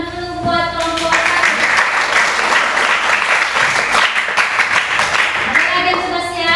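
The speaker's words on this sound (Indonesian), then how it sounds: "Tepuk tangan dulu buat kelompok 1." A classroom of students bursts into lively, dense applause for the first group, with children's voices audible at the start and as the clapping fades.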